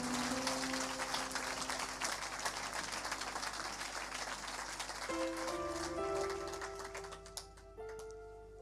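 A church congregation claps and cheers in sustained, dense applause with music beneath, the clapping thinning toward the end.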